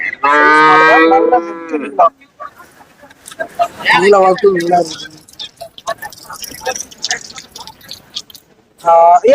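Cattle moo loudly and close by at a busy cattle market, with a long low call at the start and another near the end, and people talking between the calls.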